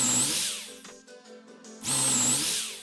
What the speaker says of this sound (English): drill your pilot holes for your bolts